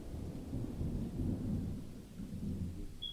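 Steady rain with low rolling thunder from a summer thunderstorm, used as ambience in a tabletop role-playing session; a continuous, fairly loud rumbling wash with no voices.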